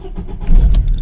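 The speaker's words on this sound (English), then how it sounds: "Yep, car starts fine." A car engine cranks and catches, a close, loud low rumble that surges up halfway through the short moment and holds steady.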